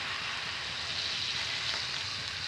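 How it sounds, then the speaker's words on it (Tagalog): Food sautéing in a hot pan makes a loud, continuous sizzle and crackle, steady and close for a couple of seconds with no talking. "Pero ngayon, ginigisa ko na siya."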